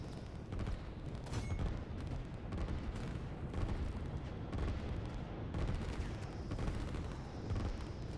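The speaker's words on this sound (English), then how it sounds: "And this is such a massive artillery." Booming artillery fire in the real-time strategy game Line War, a steady rumble of repeated heavy blasts and explosions layered over one another throughout, with no talking.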